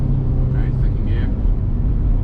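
Honda Civic Si fitted with an Exedy Stage 1 clutch kit pulling in second gear, a steady loud engine drone filling the cabin while a person talks over it.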